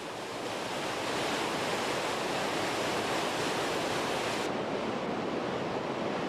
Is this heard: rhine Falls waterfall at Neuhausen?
yes